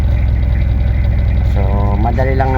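An older car's engine idles after a glow plug repair, a loud, close, steady low throbbing pulse, with a voice speaking over the rumble toward the end.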